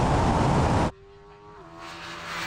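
A Porsche Turbo S in a drag race against a Suzuki Hayabusa roars loudly at full throttle, then cuts abruptly to a quieter steady engine tone with a slight pitch shift as the gearbox kicks down.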